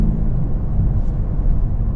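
A 2020 Lexus UX250h F Sport hybrid driving a winding mountain road, heard from inside as a steady low rumble of road and engine noise, with no voices.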